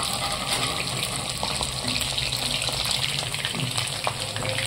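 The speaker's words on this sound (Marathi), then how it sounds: "आता थोडं बाकी आहे अजून, चांगलं एकदम कडक होईपर्यंत तळायचं" Pieces of chicken 65 deep-fry in hot oil until crisp, giving a steady, dense bubbling hiss that runs without a break, close and fairly loud, with no talking.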